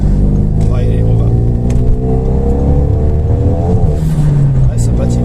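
Renault Megane RS accelerating hard with wheelspin, its loud engine note climbing steadily and close throughout with tyre noise, while someone talks over it.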